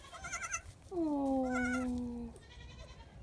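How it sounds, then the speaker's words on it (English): Baby goats bleat on a farm, one long wavering cry in the middle framed by shorter, fainter bleats before and after, close by, with a woman murmuring softly. "baby goat"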